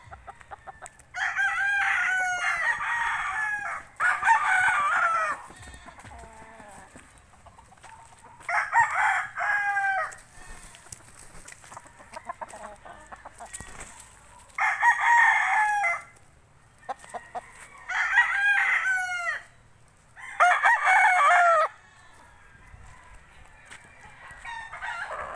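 A rooster crows again and again, about six full crows spaced a few seconds apart. Each crow is close, loud and clear, with only quiet pauses between them and no speech.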